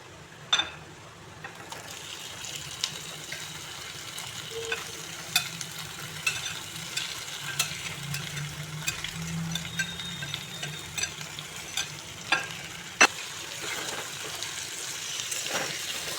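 Pieces of katla fish sizzling in oil with reddish-browned onions over a low gas flame, a steady moderate frying hiss broken by occasional clicks and utensil knocks, no speech.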